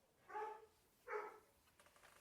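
A dog gives two sharp barks about a second apart, fairly close and clear indoors, with no talking over them.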